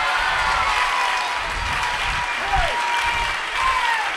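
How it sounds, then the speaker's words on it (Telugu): A church congregation claps together in a steady wash of applause, moderately loud and sustained throughout, with a few faint voices and cheers mixed into the crowd. "రెడీ, 1 2 3, యేసయ్యకి చప్పట్లు."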